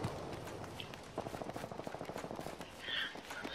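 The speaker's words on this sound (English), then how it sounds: "It's a lot of gunshots, I hear that." A rapid burst of gunfire in the video game Apex Legends rattles off, fairly quiet and somewhat distant, with a few scattered shots around it.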